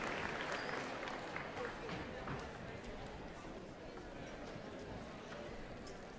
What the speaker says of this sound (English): give them a big round of applause, please, to Brian and to Karen